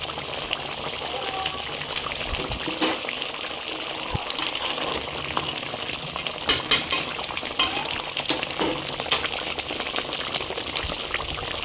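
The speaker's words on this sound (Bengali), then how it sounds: "একটু ফুটবে ফুটবে হয়ে সর্ষে পোস্ত দিয়ে বাটা মাছের ঝাল হয়ে গেছে" Bata fish curry in a mustard and poppy seed paste bubbling gently in a pan, with a steady soft sizzle and simmer, light clinks of a utensil, and occasional taps near the middle of the stretch.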